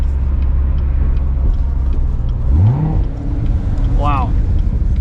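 A 2019 Chevrolet Corvette Z06 with a seven-speed manual, heard from inside the cabin on a race track: a loud, steady low engine drone and road rumble throughout, with a brief rising rev sweep partway through.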